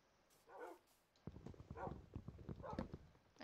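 Dogs in Minecraft make several short yips and barks in bursts over a few seconds, a small pack close by, alone with no talking.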